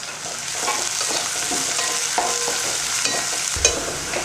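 Onion and curry leaves sizzle steadily in hot oil, with occasional stirring clinks and scrapes, close and continuous without any talk.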